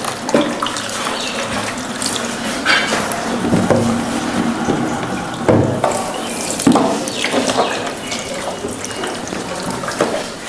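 Water poured and splashing steadily during the washing of a body, a continuous close running-water wash with irregular splashes and drips throughout.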